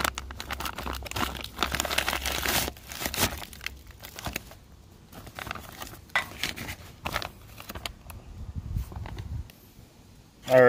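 A multi-blade knife slices open the packaging of a 1980s US Long Range Patrol ration pouch of pork with escalloped potatoes, giving close, irregular crinkling, tearing and crunching bursts before a sharper sound at the very end.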